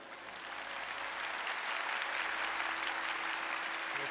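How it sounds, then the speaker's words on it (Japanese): Steady, dense audience applause fills the hall at the Japanese Final Fantasy XIV Fan Festival opening ceremony, holding at an even level for several seconds without a break. "私と一緒に立ち回り助けてくださる方はぜひ拍手をお願いします"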